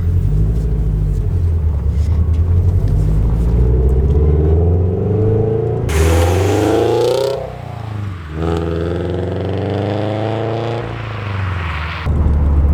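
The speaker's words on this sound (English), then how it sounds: "So I've never driven or owned a loud car like this before" A car fitted with a loud GReddy EVOlution GT exhaust pulls out, its deep rumbling drone rising and falling as the engine revs through gears, close and loud throughout.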